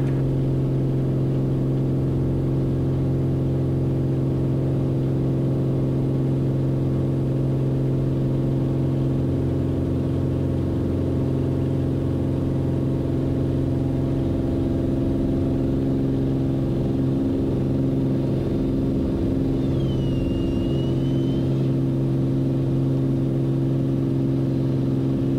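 A Beechcraft A36 Bonanza engine runs at takeoff power on the runway as a loud, steady droning roar with strong low hum tones, continuous and heard from inside the cabin, with no speech.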